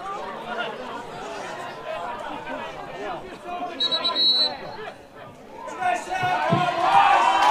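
Spectators at a South Hobart v Kingborough Lions NPL Tasmania football match keep up a steady murmur of chatter that swells louder near the end, with voices audible throughout.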